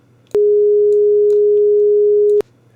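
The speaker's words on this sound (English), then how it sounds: "We're also listening to the sine wave this time because that's what FM usually does." Steady pure sine tone from an MRB Zeroscillator oscillator in a Voltage Modular synth patch, switching on abruptly, holding one unwavering pitch for about two seconds, then cutting off cleanly; loud and alone.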